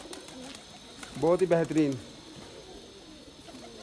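Pigeons kept by a fancier in Bakshi Nagar, Jammu and Kashmir, give a short rolling coo of about a second, close and fairly clear, with someone speaking Hindi around it.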